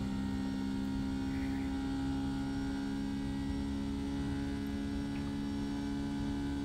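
Rolls-Royce engines of a Boeing 757 in the X-Plane 11 flight simulator spool up for takeoff, a steady, even droning hum with tonal whine that holds without pause and has no voices over it.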